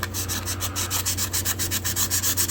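Fine 1,000-grit sandpaper is rubbed back and forth over the blade of a vintage German-made knife in quick, steady, even strokes, close up and fairly loud, with no voices.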